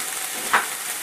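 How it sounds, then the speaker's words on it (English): Chicken sizzles loudly in a hot frying pan as boiling water is added to deglaze it, a continuous hiss with a brief sharper burst partway through. "I'm just going to get some water, boiling water, and I'm going to deglaze the pan"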